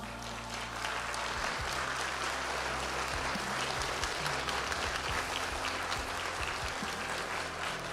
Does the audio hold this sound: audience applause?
yes